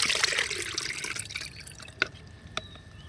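Banana-flower liquid fertilizer solution poured and strained, a brief splashing pour that trails off into a few distinct drips close by.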